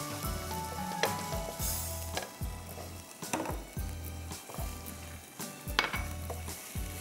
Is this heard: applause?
no